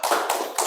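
Quick, close hand claps from a children's clapping game, a few sharp slaps in fast rhythm.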